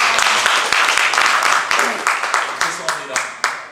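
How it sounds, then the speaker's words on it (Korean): An audience claps at a Korean church council general assembly in New Jersey, a short burst of applause that thins out into scattered, fading claps. "뜨거운 박수 부탁드리겠습니다."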